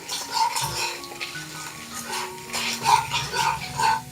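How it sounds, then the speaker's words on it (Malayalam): Chana dal and urad dal roasting in oil on a medium flame, a soft steady sizzle with clinks and scrapes of a spoon stirring in the pan. "ഒരു ടേബിൾ സ്പൂൺ ഉഴുന്ന പരിപ്പും കൂടെ ചേർത്ത് ഒന്ന് റോസ്റ്റ് ചെയ്തെടുക്കാം ഫ്ലെയിം മീഡിയം ഫ്ലെയിം വെച്ച് കൊടുക്കുക"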